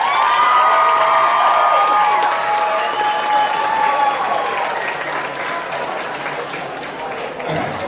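A lively crowd at a school bike-a-thon event bursts into loud sustained applause with cheering, whoops and children shouting, easing slightly as it continues before fading near the end.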